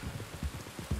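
Steady rain falls in the video game Red Dead Redemption 2, a dense hiss of drops with low rumbling swells pulsing beneath it throughout.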